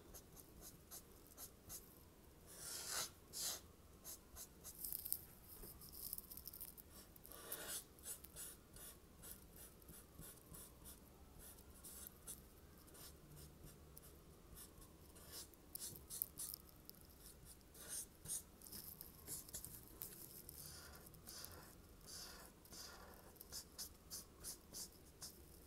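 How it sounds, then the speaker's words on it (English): A black colored pencil draws on paper, shading dark areas around braids, with quiet, irregular scratchy strokes in quick bursts and short pauses, no voices. "I want to start with the lighter color and then use my black colored pencil"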